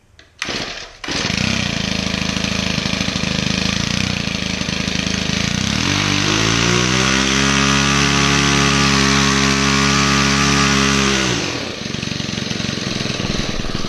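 A weedeater string trimmer's small two-stroke engine fires up and snarls loudly near at hand. It climbs to a sustained full-throttle whine, then drops back toward idle near the end.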